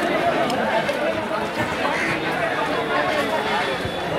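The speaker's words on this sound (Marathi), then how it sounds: "बरोबर असे आज खूपच गर्दी आहे" Dense crowd chatter fills a busy wholesale fish market in Malad, a constant loud babble of many voices close around, with people talking nearby.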